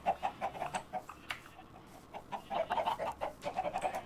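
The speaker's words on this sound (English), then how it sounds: "I think the chickens might be too close to it." Chickens in the Minecraft Thaumcraft modpack cluck in a steady run of short, repeated calls, close and moderately loud, with no talking over them.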